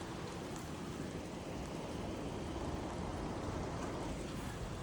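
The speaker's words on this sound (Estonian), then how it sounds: "Väljas käib meeletu sadu ja äike." Heavy rain pours steadily outside during a thunderstorm, a dense, continuous hiss with no breaks and no thunderclap standing out.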